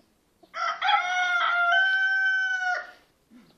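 A cartoonish zombie chicken in a farm video game lets out a single long rooster crow, loud and close, stretching for about two seconds before cutting off, with no talk over it.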